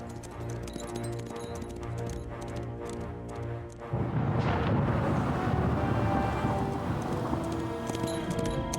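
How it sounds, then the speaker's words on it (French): Thunder from an approaching storm in a Zorro cartoon rolls in as a loud, broad rumble that swells midway and stays heavy, with horse hoofbeats and music beneath. "La tempête approche."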